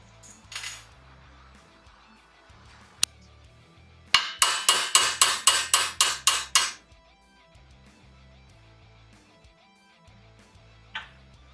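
Metal bungs are knocked into place on a Harley-Davidson Shovelhead chopper: a burst of about ten sharp, evenly spaced metallic taps up close, with a few isolated clinks before and after in a quiet workshop.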